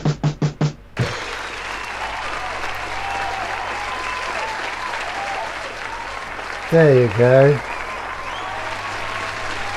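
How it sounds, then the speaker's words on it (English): A festival crowd bursts into a standing ovation after a creative apps session, sustained loud clapping and cheering that follows a few sharp beats, with a short spoken remark and a brief tonal chime midway. "Blimey, standing ovation."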